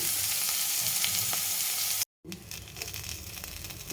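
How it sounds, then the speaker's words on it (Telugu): Cumin seeds, onions and green chillies fry in a pan, giving a loud, continuous hissing sizzle that drops out briefly and resumes slightly quieter. "జీలకర్ర ఉల్లిపాయలు పచ్చి రుబ్బేలు వేసి చక్కగా వేయించాలి"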